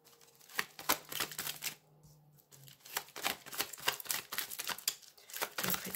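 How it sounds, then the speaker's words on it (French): An oracle card is set down on a table during a tarot-style reading, amid a steady run of crisp papery clicks, taps and card handling, close and fairly quiet, with no talking. "Je vais mettre la carte juste là."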